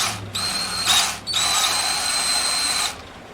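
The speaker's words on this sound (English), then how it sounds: "small drill bit." Power drill with a small bit boring into a part of a Troy-Bilt 3000 PSI gas pressure washer, a close, loud whine that runs briefly, pauses, then holds steady for about two seconds before stopping.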